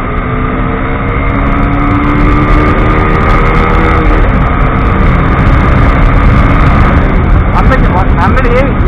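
A TVS Apache 200 4V motorcycle with a BS4 engine revs and pulls hard through traffic, its engine a loud, continuous drone mixed with wind noise and a rider's voice speaking over it.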